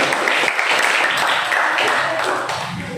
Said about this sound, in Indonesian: Aplaus untuk Nafi atau Tias.